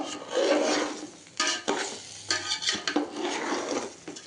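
Food being stirred and sautéed in a pan on a stove for egg pulao, a close rasping scrape of a spatula in uneven strokes with short pauses, no voices.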